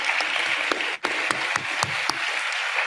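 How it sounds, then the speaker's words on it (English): Steady applause from an audience at a school teachers' showcase forum, a dense wash of clapping with a few sharper individual claps standing out, sustained across the whole stretch with a brief dip midway. "Another round of applause for him."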